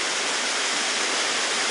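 Heavy rushing water from floodwater after a big rainstorm at El Batey, a steady broadband roar with no pauses, loud and close, with no voices.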